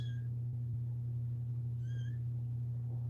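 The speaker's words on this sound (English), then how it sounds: "Can y'all hear the kittens?" Two faint, high kitten meows, one at the start and one near the middle, sit under a loud, steady low electrical hum.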